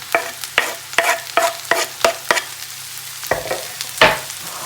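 Mushrooms and onion are stirred in olive oil in a pot, producing a series of close, distinct scraping strokes against a light sizzle, about a dozen in an uneven rhythm.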